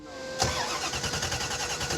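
A Chevelle engine cranks without catching because of a fuel pressure fault, with a steady rhythmic starter churn that begins abruptly and repeats evenly, loud and close, with no voices.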